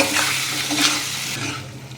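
Chunks of elephant foot yam are stirred with chili powder and spices in a hot pan, giving a short burst of sizzling with scraping, stirring strokes up close.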